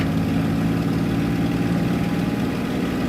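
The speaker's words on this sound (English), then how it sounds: "So I increase engine power first." Aircraft engine in a flight simulator game with power being increased, a steady droning hum, loud and unbroken throughout, no voices.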